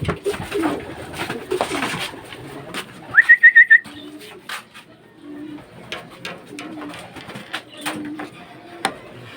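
Racing pigeons cooing at a loft as a derby race pigeon arrives, with soft low coos repeating throughout among scattered clicks and bumps and a brief high electronic beep sequence in the middle.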